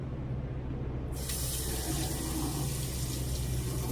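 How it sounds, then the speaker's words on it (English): A straight razor is rinsed under a running tap, a steady close hiss of water into a sink that swells fuller partway through and keeps flowing throughout. "So just rinse the razor."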